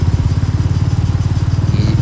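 A motorcycle rides a broken, landslide-damaged mountain road near Khardung La and Nubra Valley in Ladakh, its engine thumping loud and close in a steady pulsing rhythm throughout.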